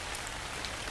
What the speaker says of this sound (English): The rain's pounding harder now, the car shaking slightly under the strain of the storm.